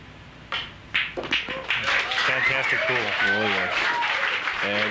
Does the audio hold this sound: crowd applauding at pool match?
yes